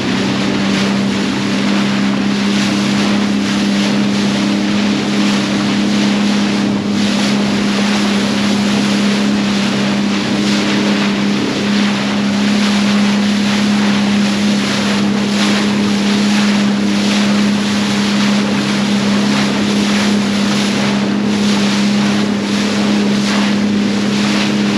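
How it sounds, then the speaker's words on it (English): Strong wind buffets the microphone throughout a ride near Hamilton harbour, a loud, constant roar with a steady low engine hum beneath it and no speech. "Hopefully these winds will calm down."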